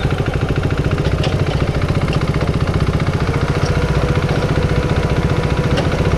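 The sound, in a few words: motorcycle approaching on mountain road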